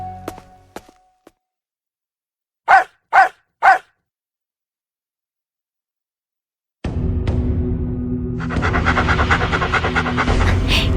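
A dog pants in three quick, loud bursts after a few faint taps, then a sustained, dense noise fills the end of the clip; no talking.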